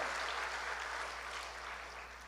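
A rally crowd at a Korean national independence gathering applauds, a soft, even wash of distant clapping throughout, with a steady low hum underneath.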